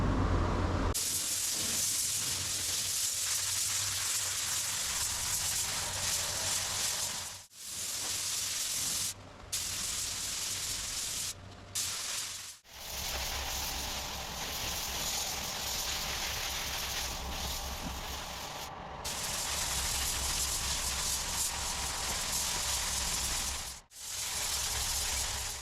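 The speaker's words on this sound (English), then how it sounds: "I just put a light sticky coat or grab coat, whatever you want to call it, over all the panels first." A spray gun lays a light tacky grab coat of black base paint over vehicle panels in a dusty workshop. The hiss is steady and close and runs in long passes, broken by brief pauses.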